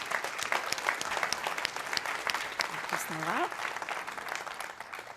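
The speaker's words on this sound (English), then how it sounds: "Let's give a huge round of applause to Snora and all his GMs for the wonderful," Applause from a large audience at a Cisco Live 2026 conference keynote in Amsterdam, steady clapping from many hands with a few cheers, moderately distant and under brief talk from a presenter.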